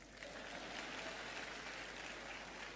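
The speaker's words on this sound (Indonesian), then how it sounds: "Tepuk tangan untuk koan." An audience applauds steadily throughout at a spiritual talk, the clapping a dense, even wash of many hands without pause or voices on top.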